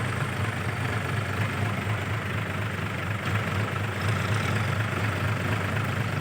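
A Kubota M70 tractor pushing soil at the edge of a pond dig, its diesel engine running with a steady, loud, low rumble and no talk over it.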